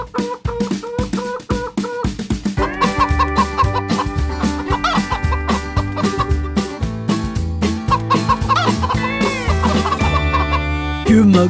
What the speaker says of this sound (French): Et dans sa ferme, il y a une poule.